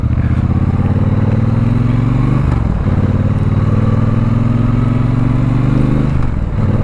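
A 2022 Triumph Bonneville Bobber motorcycle engine while riding, a loud close throbbing drone that rises steadily in pitch, dips briefly as if between gears, then climbs again.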